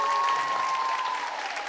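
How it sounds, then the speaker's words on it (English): A concert audience applauds a trombone soloist at a county band concert, a short, full, even wash of clapping with a sustained tone ringing above it. "give him a round of applause"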